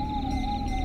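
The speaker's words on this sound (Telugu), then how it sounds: "అప్పుడప్పుడు నక్కల అరుపులు తప్ప" A jackal lets out a single drawn-out howl, a steady sustained tone at night in the Nallamala forest near Srisailam, heard alone with no voices.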